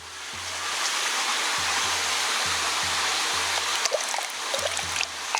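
Water poured into a pot before boiling sweet potatoes, a loud, continuous rushing splash that swells at the start and holds steady, close by, with faint clinks near the end.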